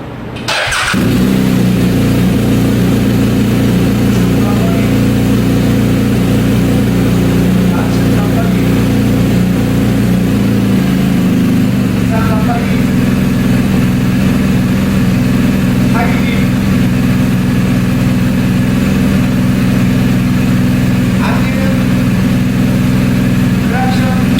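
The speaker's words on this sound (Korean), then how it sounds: "시동을 걸어서 각종 전자 장비는 잘 작동이 되는지 확인 한번 해보도록 하겠습니다" A BMW R1250GSA Rally motorcycle engine starts with a quick cranking burst, then settles into a steady, loud idle that hums on throughout.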